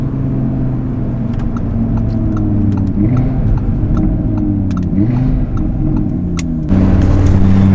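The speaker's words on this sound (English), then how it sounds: "That was a nice downshift." An Audi RS3 engine drones at steady revs from inside the cabin, a deep layered rumble, then the note jumps abruptly louder and higher near the end as a downshift kicks in.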